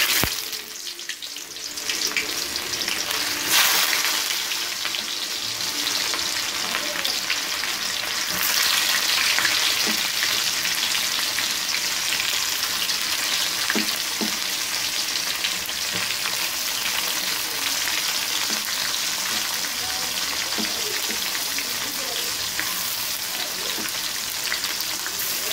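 Onion sizzling in hot oil in a pan for idli upma, a steady hissing fry that holds for a long stretch with faint occasional stirs and no voices.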